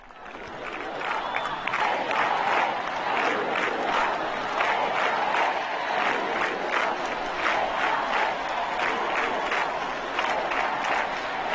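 An audience at one of Portugal's leading universities applauds the Pope as he takes his seat, steady sustained clapping from a large crowd, moderately distant and continuous without talk.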